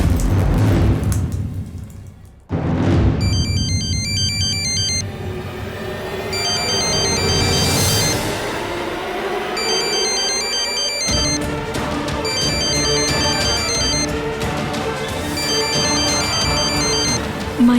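A synthesized phone ringtone plays a repeating electronic melody in short bursts over a dramatic music background, with a sudden booming hit near the start.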